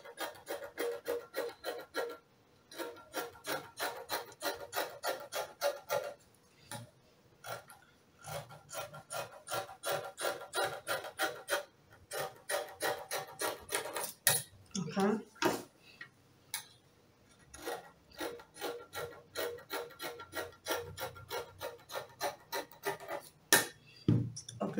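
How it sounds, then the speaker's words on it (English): Scissors cut through two stacked layers of fabric for a peplum, with a repeated rhythmic crunch of snips at close range that continues through the whole passage, broken by a few short pauses. "So now I'm going to trim them together straight."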